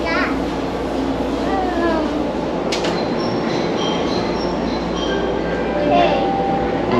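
Riding an LRT Line 1 train, with a steady loud rumble of the carriage on the rails, faint wheel squeals and a brief metallic clank, under a crowd murmur of passengers and children's voices.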